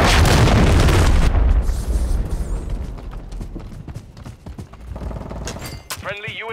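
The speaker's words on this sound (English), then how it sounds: "Launch the cruise missile." A loud, heavy cruise missile explosion in Call of Duty Modern Warfare 3 hits hard at the start, then rumbles and fades over several seconds, followed by scattered game noises and a short burst of speech.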